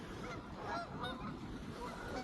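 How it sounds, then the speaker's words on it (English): Geese honk near a beach lodge and boathouse at a state park campground, a steady layered chorus of calls over outdoor ambience for the whole stretch, loud and close. "wouldn't be one of my videos lately without birds yapping at me"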